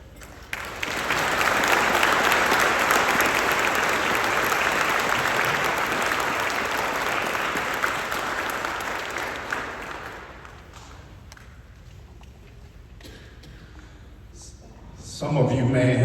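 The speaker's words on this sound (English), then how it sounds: "a round of applause for each" An audience at a Veterans Day program applauds warmly for about ten seconds, then the clapping fades to a quiet room before a voice starts up.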